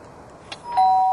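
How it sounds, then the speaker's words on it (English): A doorbell in a house rings once with a clear, sustained electronic chime that starts after a faint, quiet background and a small click, then holds steadily to the end. "I think that's the bell, Danny."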